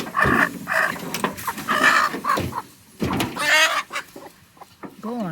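Chickens on a free range cluck and squawk loudly and close by in a quick run of varied calls, broken by a couple of short pauses.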